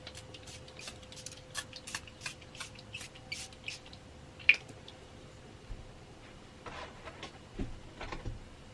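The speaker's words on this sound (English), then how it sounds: "Let's just spray this." A handheld spray bottle gives a quick run of soft, hissing squirts close by, followed by scattered clicks and rustles in an otherwise quiet indoor room.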